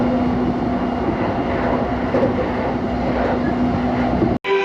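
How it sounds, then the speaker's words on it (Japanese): A Chuo Line commuter train runs between Kokubunji and Musashi-Koganei, heard from inside the carriage as a steady rumbling roar with a faint whining tone, then a brief sudden drop near the end. "電車は国分寺と武蔵小金井の間を走行中。"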